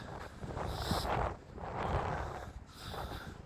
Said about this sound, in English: Wind is beating us down